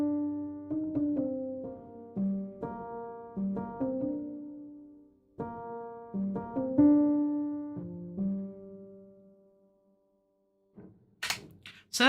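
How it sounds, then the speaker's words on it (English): Soft cinematic piano melody with gentle, sustained notes in uneven phrases, a pause near the end, then a brief burst of bright noise at the close. "another cinematic soft piano for the melody, just to flesh it out"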